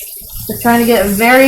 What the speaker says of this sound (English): very hot water. That's what that noise is.